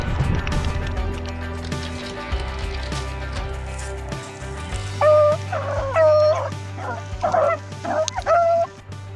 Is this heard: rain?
no